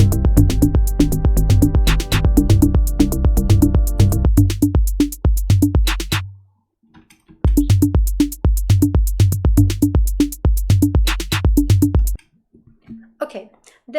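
A punchy, syncopated drum beat with kick, snare hits and extra percussion loops steadily, stops briefly, then resumes before cutting out.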